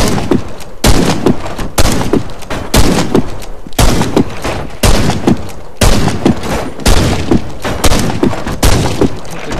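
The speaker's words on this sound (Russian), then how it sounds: "Ваншотный дробовик, который просто палит в упор." Shotgun blasts in the first-person shooter Warface, fired point-blank in rapid succession: loud, booming shots repeating roughly every second, each with a sharp crack and heavy low thump, with no talk over them.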